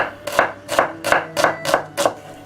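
A knife chops shallots finely on a cutting board, six crisp, evenly spaced strikes in a steady rhythm, close and clear with no talking.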